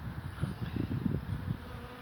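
Honeybees from a hive being relocated out of a Telstra pit swarm and buzz steadily close by, a dense low drone with pulsing swells and no voices.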